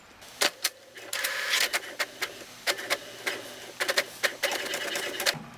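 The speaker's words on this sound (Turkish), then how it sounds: "İçeride kartuşları temizlik işlemi yapıyor." An HP inkjet printer whirs and clicks in short, uneven mechanical bursts as its print head moves back and forth while cleaning its cartridges, close by and with no voices.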